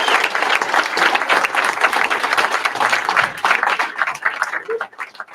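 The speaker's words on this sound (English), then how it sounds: "So, give every veteran in here a round of applause." A crowd applauds veterans at a ruck event, with energetic clapping that swells and then thins toward the end, some voices and cheers mixed through it.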